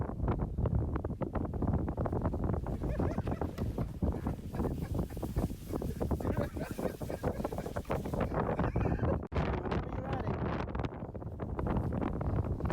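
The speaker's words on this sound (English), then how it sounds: "the wind has just picked up a little more than usual. It is getting stronger and stronger" Strong wind blowing outdoors at night, a continuous heavy rumbling buffet against the microphone with gusty fluctuations, loud and close throughout.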